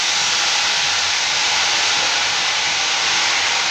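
Water sprinkled onto kachra cooking in a hot pan gives a steady, loud, close sizzling hiss that holds unbroken throughout.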